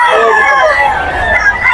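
Roosters crow and chickens cluck amid a busy pet market at Bocaue, loud and close, with a crowd murmuring in the background.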